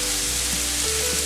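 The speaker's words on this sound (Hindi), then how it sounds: "अब हम डालेंगे टमाटर, शिमला मिर्च डालेंगे" Tomato and capsicum hitting a hot frying pan with softened onions, giving a steady, close sizzle with a faint hum underneath, no talking.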